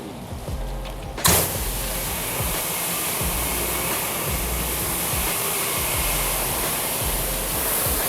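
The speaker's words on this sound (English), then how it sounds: "while I spray my chemical on the first pass" Cleaning chemical sprayed onto a kitchen exhaust hood: after a brief quiet moment, a loud, steady hiss bursts in and continues unbroken to the end, with no voices.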